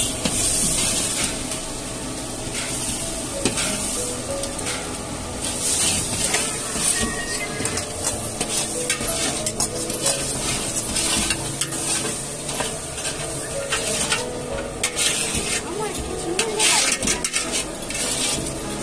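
Onions and ginger-garlic paste sautéing in a pan for tomato rice, a continuous dense sizzle with frequent clinks and scrapes of a spoon against metal, close and fairly loud with no talk.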